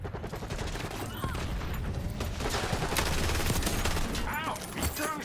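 Gunfire in Black Ops 6 Season 3 Reloaded, heavy rapid bursts and volleys of shots layered with game effects, sustained and loud, with a voice talking in places.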